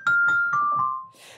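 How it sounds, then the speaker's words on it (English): A celesta, a bell-like keyboard instrument in a recording studio, plays four clear chiming notes in a descending line, close and bright, each ringing briefly before a soft noisy rustle at the end. "So over here we have a celeste or a celesta."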